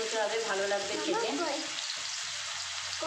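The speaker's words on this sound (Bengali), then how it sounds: "আমি একটা একটা করে দিয়ে ভেজে নিচ্ছি" Cornflour-coated chicken pieces frying in a pan give off a steady hiss and sizzle, with a person talking over it for the first half.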